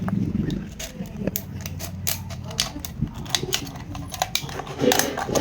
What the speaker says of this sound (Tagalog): So gunting naman ang gagamitin ko.